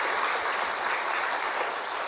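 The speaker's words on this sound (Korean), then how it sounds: "우리 자축의 박수도 한번 하겠습니다" A church congregation applauds itself in celebration, a continuous, even roar of many hands clapping at moderate distance with no breaks.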